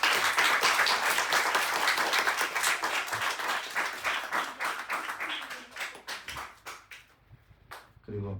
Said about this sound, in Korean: 우리 한번 박수 한번 쳐주시죠.